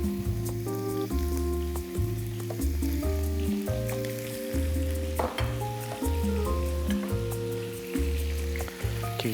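Mushrooms fry in oil in a preheated pan with a continuous sizzle and crackle, under a repeating low tonal hum and occasional spatters, no voices.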